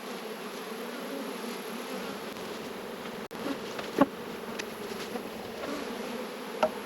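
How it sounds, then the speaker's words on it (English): Honey bees buzz steadily around an open hive while honey supers are checked, a continuous close droning hum with a few louder bees passing near. "I had a cloud of bees around me"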